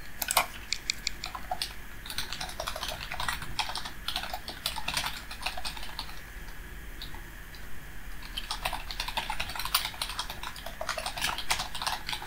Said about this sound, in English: I think I'm getting used to this keyboard.